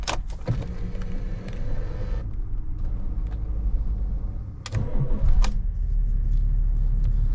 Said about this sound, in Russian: И запускаем автомобиль.